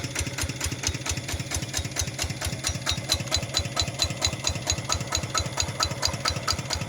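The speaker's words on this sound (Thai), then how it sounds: "ฟังเสียงครับแตกแตกแตกอยู่ทั้งหลังสิเด้อ" A Siam RT110 walk-behind tractor engine runs with a steady, rapid, loud knocking chug, heard up close with no other sounds.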